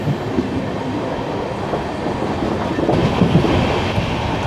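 Ernakulam–KSR Bengaluru Intercity Express with new LHB coaches rolling on rails just past Podanur Junction, a loud, continuous rumble with rhythmic clickety-clack of wheels over joints and points.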